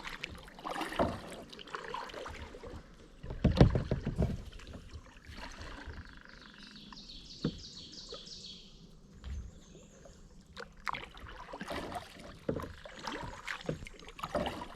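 Paddle strokes from a cheap Dollar Tree kayak on open water, with splashing and dripping at irregular intervals, faint birdsong in the background, and no talking.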